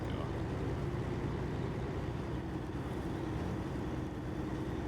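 A Kenworth W990 truck engine in the game SnowRunner, a steady low droning rumble that stays loud and even throughout.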